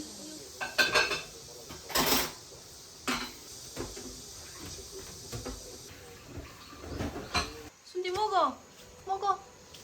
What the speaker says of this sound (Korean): 엄마 설거지 하고 줄게